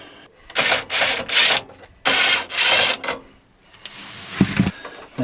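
Screws are backed out of an RV furnace sail switch by hand, giving close scraping, rasping turns in several separate bursts with short gaps, then a couple of small knocks near the end.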